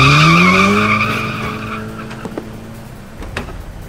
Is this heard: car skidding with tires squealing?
yes